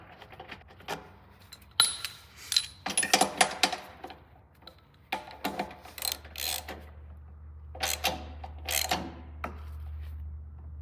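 Spark plug being screwed into a Honda push mower, giving a series of close, irregular metallic clicks and ratcheting rasps, with quiet gaps between bursts and a low background hum.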